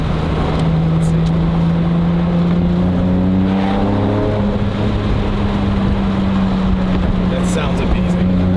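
A Porsche 997 Carrera 4S fitted with a Fabspeed full exhaust system revs up, its loud exhaust note rising and climbing in pitch over several seconds, with engine noise continuous throughout.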